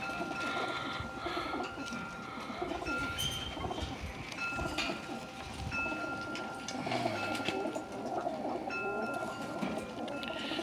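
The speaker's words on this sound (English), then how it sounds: "And check this out. Oriental rollers." Oriental roller pigeons coo softly among a busy backdrop of other birds, with a steady low rumble running underneath throughout.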